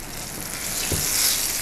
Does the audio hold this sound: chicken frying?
yes